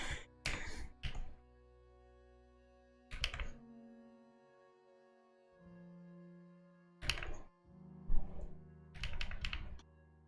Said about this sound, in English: Can you guys hear the keyboard clicking when it's like drawing?